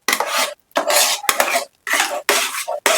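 Halwa with cashews being stirred in a pan: a spoon scrapes and clatters against the metal in repeated bursts, close and loud, with brief sharp taps between strokes and no talk.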